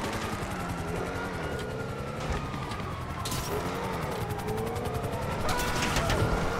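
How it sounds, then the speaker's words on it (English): A police helicopter in the video game GTA 5 makes a continuous droning rotor and engine hum that holds steady throughout, mixed with game traffic and mechanical noise. "they got a chopper on me"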